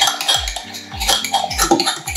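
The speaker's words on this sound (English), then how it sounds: "stir that together." A utensil stirs an applesauce mixture in a bowl, giving repeated clinking scrapes against the dish in a steady rhythm, close and fairly loud, with no talking.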